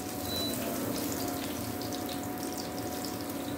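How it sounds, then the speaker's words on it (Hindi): Cumin seeds spluttering in hot oil at the start of a tomato chutney, a steady dense crackle and hiss running evenly throughout, close and fairly loud with no talk. "ये देखिए जीरा हमारा फूट रहा है।"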